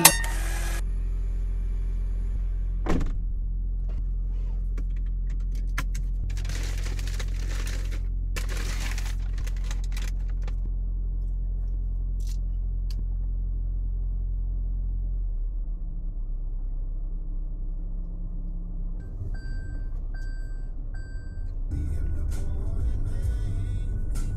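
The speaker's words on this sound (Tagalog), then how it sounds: "It's so traffic here in Sipocot." Heavy road traffic in Sipocot rumbles as a steady low drone of engines, with a few passing noises and brief beeps near the end, continuous and fairly loud.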